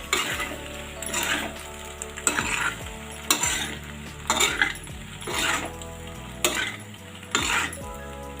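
Veg cheese macaroni being stirred in a pan, with repeated scraping strokes of a spoon against the metal over a steady sizzle, a few sharp clinks at intervals, close and fairly loud, no talking.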